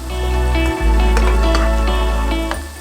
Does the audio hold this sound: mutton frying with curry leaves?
yes